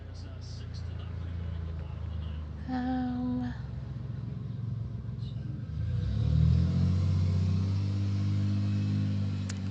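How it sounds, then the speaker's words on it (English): A car passes outside a room: a low engine rumble swells to its loudest partway through and then fades slightly, heard at a distance under quiet indoor sounds. "Car outside."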